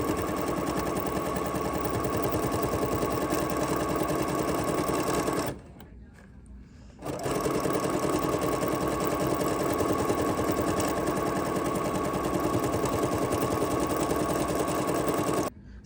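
BERNINA sewing machine with a double cording foot stitches a decorative pattern, running fast and loud and steady, pausing for about a second midway before resuming and stopping abruptly near the end.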